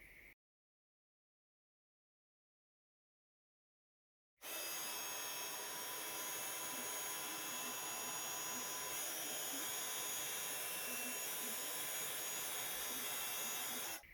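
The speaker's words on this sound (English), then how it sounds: "I'm going to heat emboss that with gold embossing powder." A heat tool blows a steady, loud whirring hiss while heat embossing gold embossing powder on a handmade card; it starts abruptly after a few seconds of silence and continues evenly to the end.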